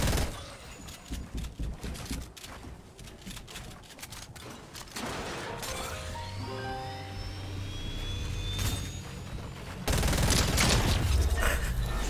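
Rapid charge SMG gunfire in a shooter video game, bursts of dense automatic shots over layered game sounds, with an engine-like whine rising midway and a loud final stretch of firing.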